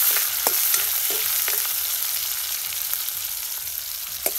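Onions and bay leaves fry in a pan while cooking outdoors at a village family picnic. A steady, close sizzle runs throughout, broken by light clinks and scrapes of stirring.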